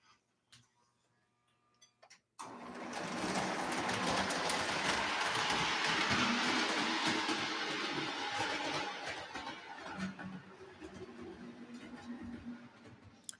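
A model train hauling chassis cars rolls past after a quiet start, a sudden steady rumble with fast clicking wheel beats that swells and slowly fades, fairly close.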